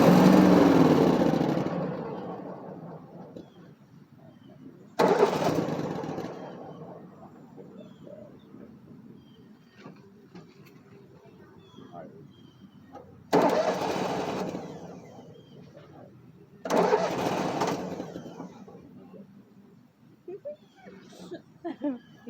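A small engine is cranked repeatedly, with several loud bursts of cranking and sputtering, each fading out before the next pull, while people talk nearby.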